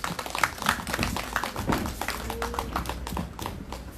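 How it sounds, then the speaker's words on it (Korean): An audience at an outdoor candlelight protest rally in Seongju claps to welcome a singer to the stage: steady, moderately loud, scattered clapping with a faint tonal sound in the background. "우리 김미영님 큰 박수로 모셔보도록 하겠습니다"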